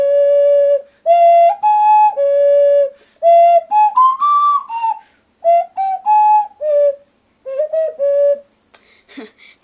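Melody played on a Nemo ocarina, clear pure flute-like tones in short phrases with gaps between them, loud and close, playing alone with no talk.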